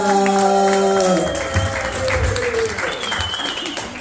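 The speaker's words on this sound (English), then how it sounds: "Y'all don't mind putting y'all hands together, left hand, right hand, make a sound for Dr. Elsa." An open mic audience bursts into applause, loud at first and then thinning as the clapping fades, with a voice and crowd murmur underneath.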